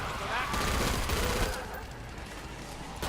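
Rapid automatic gunfire from a SWAT class weapon in the shooter game Killing Floor 2, a dense stream of shots with game sounds, a voice talking over it.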